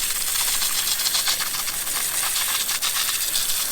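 Steady hiss of a fresh-water spray hose rinsing the mustard out of cleaned crabs, a continuous close broadband rush with faint rattling, no talk.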